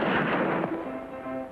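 A shotgun blast in a classic western TV show, one sharp loud shot that rings out and then fades into a decaying tail.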